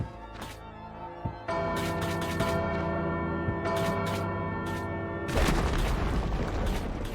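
A large bell in the video game Bloodstained drops down with a heavy boom, followed by sustained, ringing metallic tones and rumbling impacts layered over game music, loud and continuous throughout.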